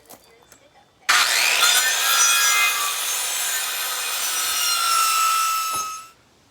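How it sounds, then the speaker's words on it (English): A Skil circular saw bites into wood set about three quarters of an inch deep, a loud sustained whining cut of about five seconds that starts abruptly and winds down at the end. "using the skill saw with the circular edged blade, I couldn't get all the way through"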